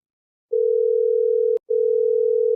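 A telephone dial tone sounds as a call is placed: a loud, steady, pure hum that starts after half a second, breaks off briefly with a click, then resumes unchanged. No speech is heard.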